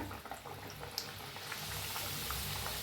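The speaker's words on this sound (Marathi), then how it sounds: "लोखंडाची कढाई ठेवली मी तळायला" Banana puris fry in oil in an iron kadhai, giving a soft, steady bubbling sizzle that gently swells louder toward the end, with no talking.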